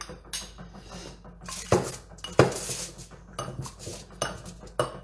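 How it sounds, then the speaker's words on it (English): Herbs ground and mixed in a small mortar and pestle, with close hard clinks and scraping knocks coming in irregular bursts and strokes. "So I'm mixing the herbs up in my little mortar and pestle here."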